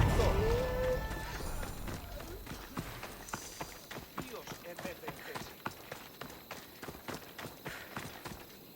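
A horse gallops in the Assassin's Creed Odyssey video game, with rapid rhythmic hoofbeats that begin after a brief whinny-like start and continue steadily and close under game audio.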